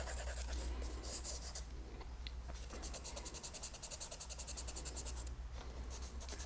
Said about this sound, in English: I'm using a charcoal pencil